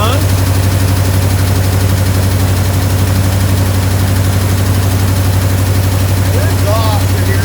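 A 1967 IH Loadstar 1600 truck engine runs steadily with a loose exhaust, a loud, constant low idle drone with a rough hum throughout, close up and unbroken.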